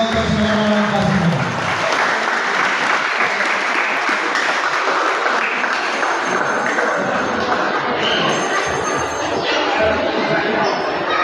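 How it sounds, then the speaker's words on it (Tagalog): Sustained loud applause from an audience at a ceremony honouring local basketball players, dense clapping continuing throughout with some voices mixed in. "Bigyan naman po natin ng palakpak."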